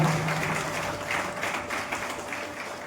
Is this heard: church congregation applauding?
yes